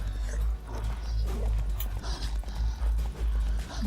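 Horse hooves clip-clopping at a walk in The Witcher 3, steady repeated hoofbeats at close range under a low background rumble, with no talk over them.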